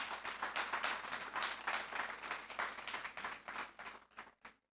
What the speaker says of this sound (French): je vous demande de les applaudir chaudement avant leur présentation